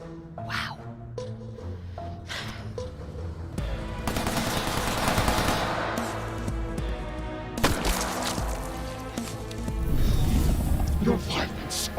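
Rapid bursts of automatic gunfire from the video game New Tales from the Borderlands rattle through a busy game mix, with a couple of sharp louder volleys and dialogue and music around them.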